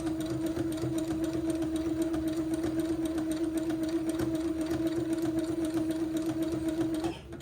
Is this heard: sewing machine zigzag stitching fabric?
yes